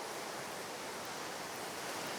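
A Welsh waterfall heard as a steady, dense roar of falling water. It holds a constant level with no breaks and no voices.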